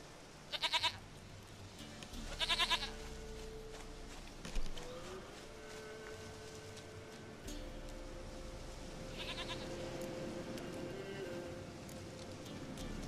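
A goat in the video game Witcher 3 bleats in three quavering, nasal calls over a low background drone, with other game noises between them.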